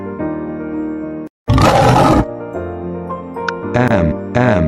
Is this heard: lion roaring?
yes